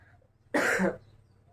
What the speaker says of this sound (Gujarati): ઉધરસ ફૂલ થઈ ગઈ છે